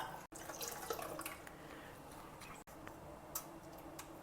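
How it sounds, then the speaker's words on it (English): Water pours steadily into rice batter for neer dosa in a bowl, a soft continuous trickle and splash close by, with a few faint clicks and no talking. "Now I am adding the remaining water."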